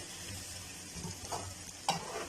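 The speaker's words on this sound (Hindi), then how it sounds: "अच्छी तरह ज़ीरे और लहसुन के साथ जो है वो इनको भून लेंगे" Potatoes sizzle quietly in hot oil with cumin and garlic while a utensil stirs and scrapes the pan in a few soft strokes.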